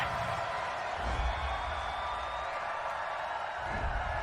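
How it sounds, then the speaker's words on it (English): A packed football stadium crowd at a Chicago Bears versus Detroit Lions game rumbles with a steady, distant roar of disapproval after a penalty flag, sustained throughout with no distinct peaks. "this crowd does not like that call"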